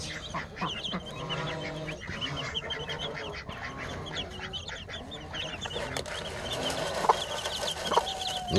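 Several chickens clucking and murmuring continuously at moderate distance, with occasional higher calls and background rustling.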